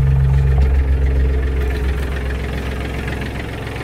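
An Iseki TK29FF tractor engine runs close by with a heavy, knocking diesel idle while its rotary tiller is raised, a low hydraulic tone dropping away early as the engine keeps chugging.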